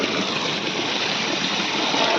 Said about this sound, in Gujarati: પાણી મોટરનું ચાલુ છે એરંડામાં અને આ પાણી પડી રહ્યું છે